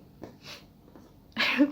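One sharp sneeze from a woman with a head cold, preceded by a few soft sniffling breaths, close and fairly loud against a quiet room.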